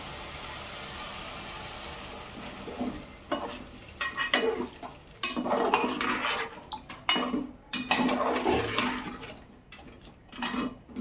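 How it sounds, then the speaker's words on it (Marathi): Water pours into a pan of spiced drumstick curry with a splashing rush, followed by clattering and stirring of a metal utensil in the pot, close by. "आणि त्याच्यात आपण पाणी टाकू"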